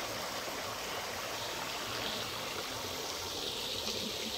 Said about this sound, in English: Here is the swimming pool. It's very beautiful.